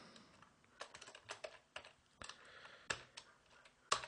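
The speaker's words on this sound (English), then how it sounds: "And I can type in, I can go ahead and do this" Typing a command on a computer keyboard: scattered soft key taps in short irregular runs, ending with two sharper louder clicks, quiet and close with no talk.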